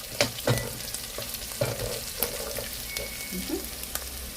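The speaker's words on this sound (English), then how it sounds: "So I'm just making sure I'm stir frying it for" Spices stir-frying in a pan for Kokni masala daal give a steady close sizzle, with repeated scraping and clinking of a spoon stirring through it.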